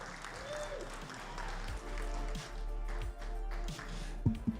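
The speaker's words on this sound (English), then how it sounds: "One more round of applause for Centralia for their performance at this event." Applause greets Centralia's performance at a state championship event, a moderate spread of clapping under a steady low hum, with a few sharper taps and bumps near the end.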